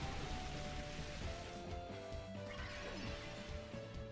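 Rain falling in the Pokemon XD video game, a steady dense wash of drops heard alongside game music and battle sound effects, with a crashing impact near the start.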